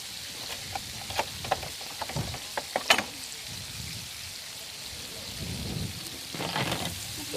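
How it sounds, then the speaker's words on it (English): Prawns dredged in seasoned flour crackle in a hot pan at a harbour seafood cooking demonstration, giving a light sizzle with scattered sharp pops, moderately close and fairly quiet. "We're going to dip them in our seasoned flour and we're going to pop them into our pan."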